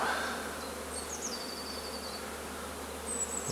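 Honeybees buzzing at an open hive during a colony inspection, a steady close hum filling the whole stretch with a few higher whining passes of individual bees flying near.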